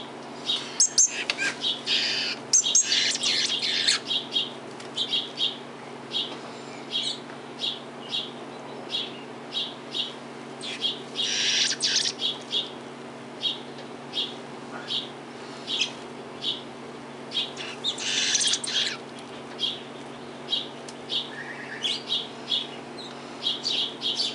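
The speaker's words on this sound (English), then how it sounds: "Happy birdies." Fledgling birds chirp repeatedly while being fed outdoors, a steady run of short, high tweets at close range with bursts of louder, busier chirping; a low constant hum sits underneath, and no one speaks.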